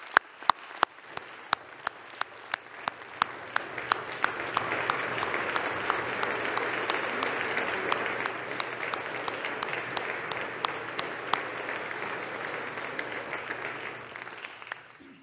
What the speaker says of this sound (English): Thank you for this round of applause